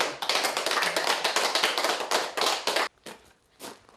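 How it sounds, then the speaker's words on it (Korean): A small group claps together after a singing class at a senior center, a brisk run of close, bright hand claps that thins into a few scattered claps at the end. "다 같이 박수로 합시다"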